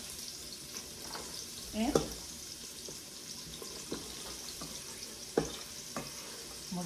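Celery and onions sauté in a pan on lowered heat with a low, steady sizzle, broken by a couple of scraping stir strokes and clinks, with brief speech.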